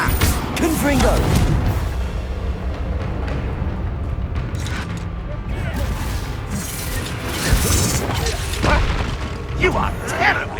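Fiery Confringo blasts from Hogwarts Legacy combat: loud repeated booms and crackling crashes through a chaotic battle, with characters shouting between the explosions.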